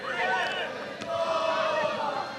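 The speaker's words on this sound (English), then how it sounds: "That's got the Polish fans up and cheering" Polish supporters cheer in a stadium crowd at a women's under-17 European Championship football match against England, a continuous broad roar with shouts rising and falling throughout.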